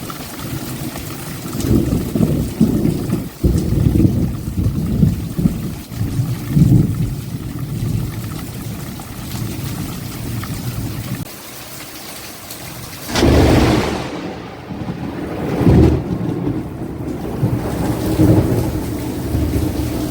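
Steady rain pours throughout on a village farm, with low rumbling thunder rolling in and swelling loudly midway before settling back under the downpour.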